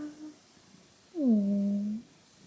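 A house cat being stroked on a sofa gives a single drawn-out meow-like call lasting under a second, fairly close and clear, with a short faint sound just before it.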